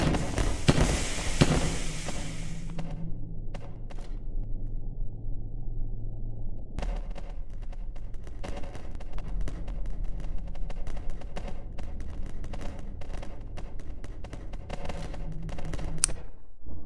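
A blue shotgun in a zombie video game fires rapidly, sharp repeated blasts in a quick, uneven burst after an early loud burst and a short lull with a low hum.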